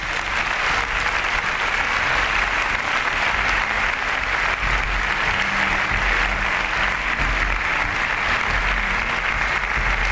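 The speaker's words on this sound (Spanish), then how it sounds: "Demos un aplauso a nuestro Señor." Sustained applause from a church congregation fills the space, steady and dense clapping throughout with no voices over it.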